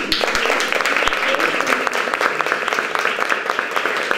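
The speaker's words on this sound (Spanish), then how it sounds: "me gustaría darle un aplauso" Audience applause at a talk and podcast recording in Churriana, a steady broadband clatter of many hands clapping, fairly close and sustained throughout with some individual sharp claps standing out.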